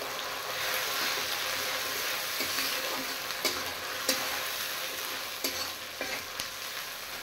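Onion and garlic paste frying in a pan while being stirred, a steady close sizzle with scattered scraping clicks from the spoon against the pan.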